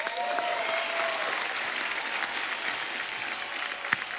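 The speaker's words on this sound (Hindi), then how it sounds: "आज मेरे भाई सुपरस्टार जॉन लक्ष्य और द वेरी ब्यूटीफुल रकुल के लिए जोरदार तालियां." Studio audience at a Hindi comedy talk show bursts into steady, dense applause, a continuous wash of clapping heard alone at moderate level for several seconds.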